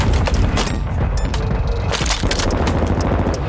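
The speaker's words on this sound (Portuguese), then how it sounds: "quem que tá trocando tiro aí?" Rapid bursts of gunfire and booming shots crackle loudly and continuously, dense and close, with no talking, in the video game Call of Duty: Warzone 2.0.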